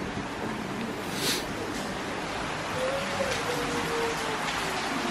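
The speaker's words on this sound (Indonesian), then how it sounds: "Wih, hujan." Steady rain falling outside a villa in Ubud, Bali, a constant broadband hiss close by and fairly soft throughout, with faint voices and a brief tonal sound partway through.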